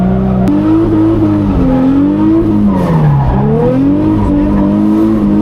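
A Nissan 350Z drifts, its engine droning loud and steady while the tires squeal with a wavering pitch that dips and climbs as the car changes direction. No one talks.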